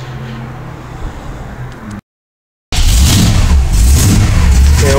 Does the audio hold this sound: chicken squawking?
no